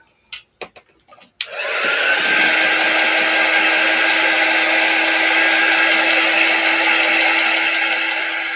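A hair dryer switches on after a few small clicks and blows steadily over a Shrinky Dinks plastic craft, a loud, close, continuous whirring hum that holds for several seconds.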